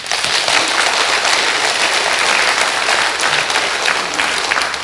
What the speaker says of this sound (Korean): 바울 위해서 박수 좀 쳐줘